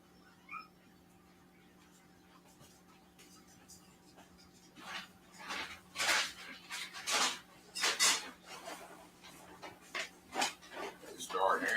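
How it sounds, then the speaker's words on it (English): American Bully dogs panting heavily with a few sharp barks close by, bursts growing louder and more frequent toward the end, over a steady low hum. "They start hearing themselves bark."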